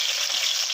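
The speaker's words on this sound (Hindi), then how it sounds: "पहले मैं अदरक को फ्राई होने के लिए रख देती हूँ।" Ginger fries in hot oil, a steady close bright sizzle with no break and no voices.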